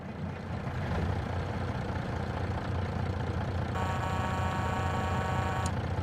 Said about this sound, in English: engine sounds